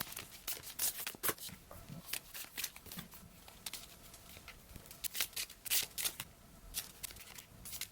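Tarot cards are laid out in a spread, a series of crisp card slides, flicks and taps in irregular bursts, close and fairly quiet, with no talking.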